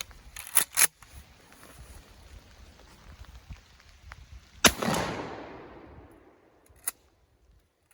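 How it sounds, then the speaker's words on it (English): A shotgun fires a single loud blast of Federal Premium Tactical 00 buckshot with a nine-pellet load, followed by a long rumbling echo that fades out over a couple of seconds, with a few sharp clicks before and after. "So I have the Federal Premium Tactical Double Alt 9-shot"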